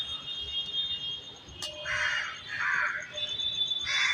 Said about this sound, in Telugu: చూడండి, ఇంత ఒక సెకండ్ కూడా అది లేకుండా కావు కావు మనం ఎలా అరుస్తున్నాయో చూడండి.